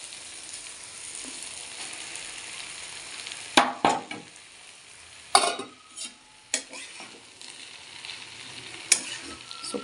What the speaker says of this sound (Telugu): ఇప్పుడు మనం దీంట్లో ఉప్మా వేసుకుందాం. ఇడ్లీ స్మాష్ చేసాం కదా, అది వేసుకుందాం,